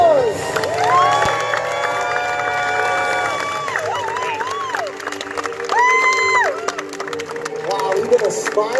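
A fairground crowd at the Florida State Fair cheers and claps for daredevils performing high above the ground. High-pitched shouts and whistles from children and adults rise and fall over steady clapping and general crowd noise.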